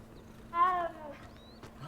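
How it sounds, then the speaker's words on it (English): A baby cheetah in the Hogwarts Legacy game gives a single short meow-like call that rises and falls, soft and close against quiet background ambience. "Oh, what type of meow that was?"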